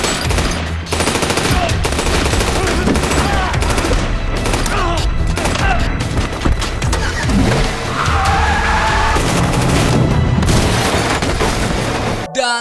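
Loud action-movie gunfight chaos: rapid bursts of machine gun fire and booms mixed with roaring car engines and crashes, continuous and dense throughout.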